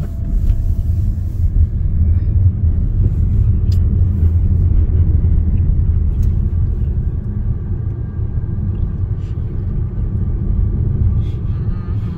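A car rolls through slow one-lane road traffic past cones, its engine and tire rumble steady and loud from inside the cabin, with no talk.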